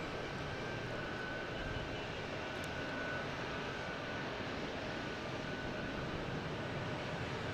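An Airbus A321neo airliner on flight 324 to Seattle, heard as a distant, steady jet-engine roar at low level, unchanging and without voices.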